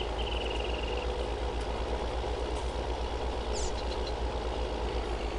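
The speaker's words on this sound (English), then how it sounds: "It's just got a nice deep, a good deep diesel exhaust sound" A diesel truck engine idles with a deep, even exhaust throb, steady and fairly close, a faint high squeal briefly cutting in over the low pulsing rumble.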